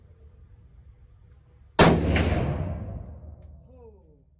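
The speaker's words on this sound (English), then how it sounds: "So first shot will be loud." A single sharp, loud gunshot from a 10.3-inch PDW fitted with a Thunder Beast Dominus-K suppressor, cracking close by and then ringing out in a long decaying echo, with a quiet voice before it.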